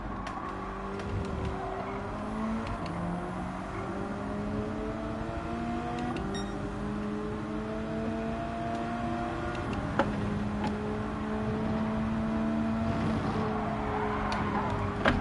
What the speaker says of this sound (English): I've just been kind of revving it out.